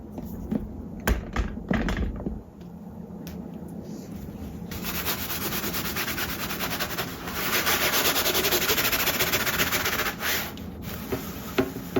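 Steady, gritty scrubbing with an abrasive sponge against a surface being cleaned, a continuous rough rubbing that grows louder and denser partway through, punctuated by a few sharp taps early on.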